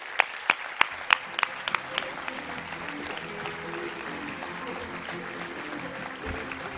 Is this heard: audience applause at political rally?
yes